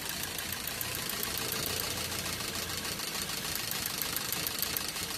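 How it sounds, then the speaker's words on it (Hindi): A Maruti Swift Dzire running on CNG idles with a misfire, giving a steady, uneven mechanical chug with ticking knocks close by and no talk. "बाकी का सिलेंडर का निकाल रहा हूँ ना तो मिसिंग बढ़ जा रहा है।"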